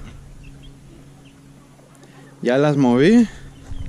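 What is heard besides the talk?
chicks clucking in cages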